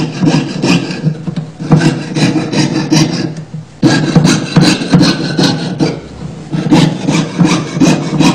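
A hand saw cuts sheet metal, rasping back and forth in steady repeated strokes, loud and close, pausing briefly midway before resuming.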